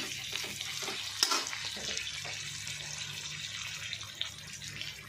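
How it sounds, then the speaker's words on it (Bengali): Mutton fat sizzles and crackles steadily in a dry wok as it renders out oil, a continuous close frying hiss with an occasional stir or clink. "চর্বিটা কিন্তু শুকনো কড়াই দিয়েছিলাম, এরকম আস্তে আস্তে করে তেল কিন্তু ছেড়ে যাচ্ছে।"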